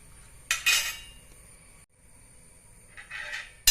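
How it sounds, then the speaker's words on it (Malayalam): Okra sautéed in coconut oil in a pan for sambar, heard as a couple of close metal spatula scrapes and clinks against the pan with a soft sizzle between them, no talking. "വെളിച്ചെണ്ണയാണ് ഒഴിച്ചു കൊടുത്തിട്ട് നമുക്ക് വെണ്ടയ്ക്ക ഒന്ന് വഴറ്റിയെടുക്കണം."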